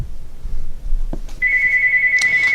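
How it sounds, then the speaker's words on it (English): A telephone rings in the background during padlock work, a steady electronic ringtone tone that starts partway through and continues to the end, fairly clear over low room noise. "Excuse the phone ringing in the background"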